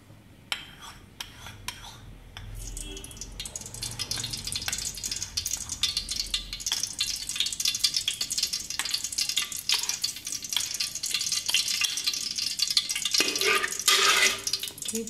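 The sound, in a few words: ghee sizzling in the pot while cooking kacchi biryani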